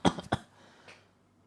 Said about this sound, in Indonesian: Kemudian batuk-batukan.